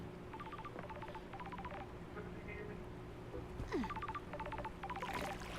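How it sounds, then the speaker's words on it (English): A phone rings in the video game Paradise Killer: short electronic trills repeat in rhythmic clusters, pause, then return, heard moderately loud over a soft, steady game ambience. "Oh, your phone is ringing."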